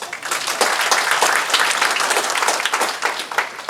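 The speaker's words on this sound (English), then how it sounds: "Give them a round of applause as well." Guests at a Japanese business New Year party give a round of applause, lively clapping from a fair-sized crowd that swells and holds steady, close and fairly loud.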